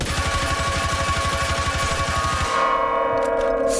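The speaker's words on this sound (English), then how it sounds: "It makes a lot of noise too if you shoot it." Gunfire hits a bell in Rainbow Six Siege: a loud, rapid burst of shots with metallic clanging runs for about two and a half seconds, then stops and leaves the bell ringing and humming as it fades.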